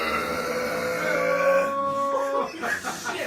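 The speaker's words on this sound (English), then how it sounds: "If you heard that burp" A loud, drawn-out belch from a person after chugging a foamy drink in a drinking contest, rumbling for a couple of seconds with a gurgling finish.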